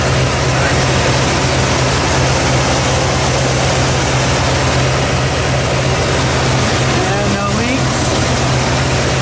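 A 1982 Ford F150 with a 351W V8 runs continuously with a fuel pressure regulator fitted, producing a loud, steady, close engine drone throughout.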